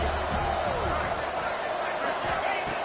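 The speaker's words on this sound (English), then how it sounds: "Third down and the crowd really getting into it" A football stadium crowd roars steadily on third down at a conference championship against Missouri State, a continuous loud wash of cheering with faint play-by-play talk underneath.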